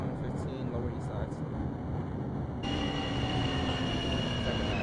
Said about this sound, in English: Queens-bound F local train.